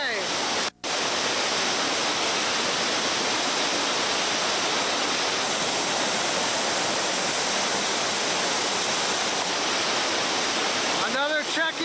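Continuous roaring rush of a waterfall and river rapids at Sweet Falls, loud and steady for nearly the whole stretch, with only a momentary break near the start.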